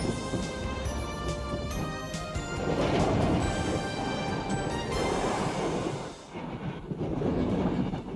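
A BLS train rolls across the steel girder bridge over the River Rhone, a loud metallic rumble and clatter of wheels on the span that surges, briefly dips near the end, then swells again, with no talk.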